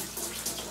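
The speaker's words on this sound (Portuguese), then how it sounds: "aqui está saindo a água que vai entrando na máquina." Water from a beer wort chiller runs steadily into a washing machine during home brewing, a continuous close hiss of flowing water with slight surges and no talk.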